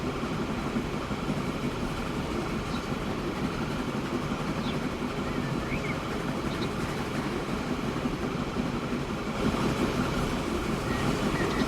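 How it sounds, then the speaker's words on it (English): A train rolls down the line in the railway game Transport Fever 2, a steady, dense rumble with light rail clatter continuing evenly throughout. "The first train is rolling down the line."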